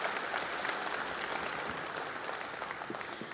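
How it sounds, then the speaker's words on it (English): An audience at an honors society induction ceremony claps for the events team, a steady, full round of applause that carries on at an even level throughout. "So we can give them a round of applause too."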